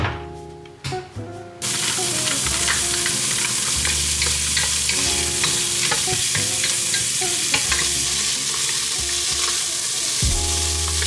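Food sizzles and crackles steadily in a frying pan after potatoes and other ingredients are tossed in, a loud continuous fry with occasional stirring scrapes, no voices over it.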